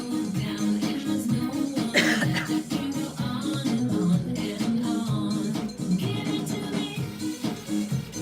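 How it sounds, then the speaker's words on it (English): A person coughs repeatedly and close by, harsh throaty bursts that break up an otherwise steady stretch of sound. "I've got a cough."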